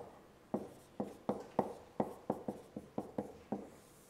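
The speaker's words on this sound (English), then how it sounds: "OK, so let me write that up here." Chalk writing on a board during a math lecture on elliptic curves: a steady series of about a dozen sharp taps and short strokes, close and clear in a quiet room with no speech.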